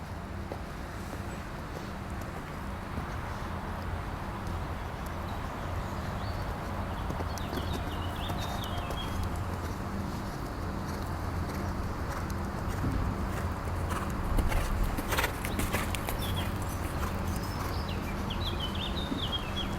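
A ridden horse clip-clops steadily at walk and trot in a riding arena during a coaching session, with continuous hoof beats under faint background noise and occasional bird calls.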